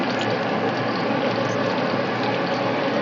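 Eggplant pieces hit hot oil over a high flame, producing a loud, dense, continuous frying hiss and crackle that holds steady throughout.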